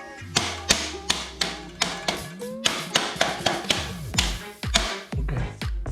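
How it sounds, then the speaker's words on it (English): Sharp metallic hammer taps ring out in a steady series of close, loud strikes while work proceeds on a Hyundai Tiburon turbo engine, with a few heavier thuds mixed in. "I need this hammer."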